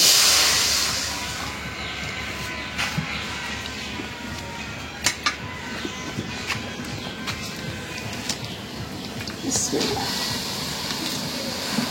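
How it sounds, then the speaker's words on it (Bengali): Water poured into a hot wok, cooking for bottle gourd greens, a broad steady hiss of steam up close with scattered clicks and light clatter. "রান্না করার জন্য একটু পানি দিয়ে দিই কড়াই।"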